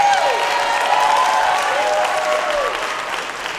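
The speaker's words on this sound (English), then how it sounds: "Another round of applause for this incredible time." At a Shakespeare monologue and scene contest showcase, the theater audience applauds loudly and without a break, with a few whoops and cheers rising above the clapping.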